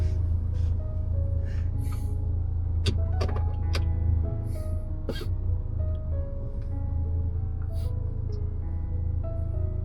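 Inside a moving car, a steady low engine and road rumble fills the cabin, with a few sharp clicks and knocks and brief faint voice sounds over it.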